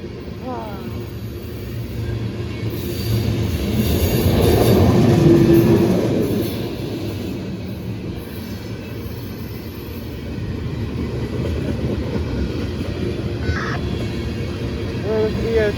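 A Norfolk Southern freight train led by locomotive NS 4260 passes nearby with continuous rumbling and clattering wheels, swelling louder midway and then easing off, with high metallic squealing and faint voices in the background.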